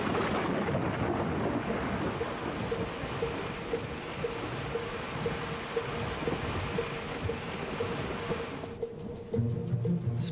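Steady rain pours outside a house in a dense, continuous hiss with a faint low tone underneath, stopping abruptly near the end, where a low hum takes over.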